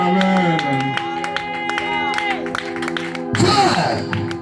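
Congregation at a church worship service bursting into loud applause and cheering near the end, over sustained music and voices.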